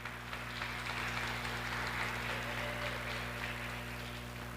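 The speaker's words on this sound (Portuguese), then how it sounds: "Gostaria que você aplaudisse essa promessa de Deus." A church congregation applauds a promise of God, producing a steady wash of clapping that fills the room at moderate distance, over a low electrical hum and without any voices.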